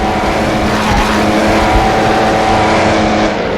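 Engine of a 1937 race car at the AVUS circuit in Assetto Corsa, a loud, continuous, close-up engine roar held at high revs for the whole stretch, with no talking.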